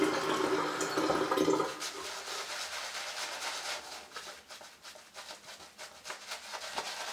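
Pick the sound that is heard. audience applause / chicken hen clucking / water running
water running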